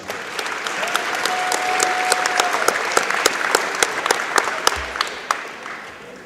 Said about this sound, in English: Please welcome them to Northview by giving them a warm round of applause